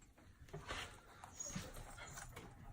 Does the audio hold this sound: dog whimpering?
yes